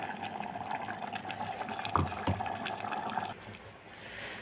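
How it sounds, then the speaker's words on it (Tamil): Coconut gravy bubbling and simmering in a pot, a steady close gurgle with a couple of louder pops, quieting slightly near the end. "இப்போ இங்கே இது கொதிக்கவும் ஆரம்பிச்சிருச்சு இதில் அந்த தேங்காயை போட்டு கொதிக்க வச்சிடலாம்"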